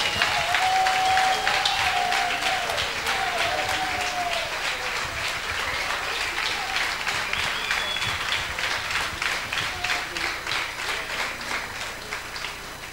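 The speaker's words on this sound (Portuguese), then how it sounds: "pedir uma grande salva de palmas para o pai da Rádio Jovem, António Augusto Silva" A large gathering applauds the founder of Rádio Jovem de Tomar at an anniversary reunion, a long sustained round of clapping that slowly thins toward the end, with a faint voice and tones briefly audible beneath it.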